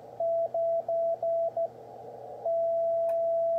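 Steady radio transmitter tones come through a receiver on a W6LVP loop antenna, first as several short evenly spaced beeps, then a gap, then one long continuous tone over faint background hiss.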